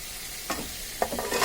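Ash gourd pieces drop into spices frying in a pan, with a steady sizzle broken by a couple of soft thuds and stirring scrapes, close and without voices.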